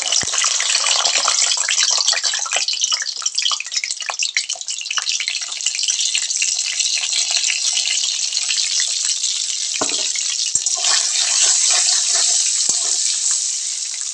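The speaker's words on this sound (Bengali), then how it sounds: "ডিমগুলো আমি ভেজে নিব।" Eggs frying in a pan give a steady, loud hiss and crackle that runs the whole time, with a brief lower clatter near the middle and no voices.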